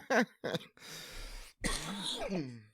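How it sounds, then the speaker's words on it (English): A short burst of coughing and throat-clearing mixed with laughter and breaths from a person on a podcast, close to the mic, with talking around it. "You're making me cough over here because I'm laughing."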